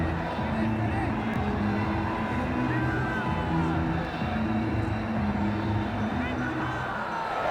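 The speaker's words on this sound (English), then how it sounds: "He's getting a polite round of applause as he makes his way to the pavilion." Crowd applause from the Ashes Cricket 2009 video game as a batsman walks back to the pavilion at the end of an innings, a steady, dense wash of clapping and crowd murmur that fills the clip without pause.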